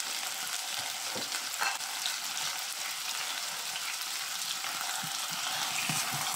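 Chicken wings and potatoes being stirred in a frying pan, a steady close sizzle with intermittent scraping and stirring clatter throughout, no voices.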